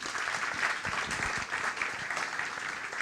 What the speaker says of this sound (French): quelques applaudissements pour eux 3